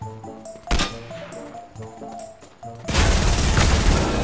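Fortnite gunfire aimed at a Brute mech: several sharp, separate shots ring out, then a loud sustained burst of blasts fills the last seconds.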